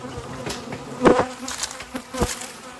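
Honeybees buzzing at a hive during an inspection, a close, steady insect drone with a few louder passes as bees fly near.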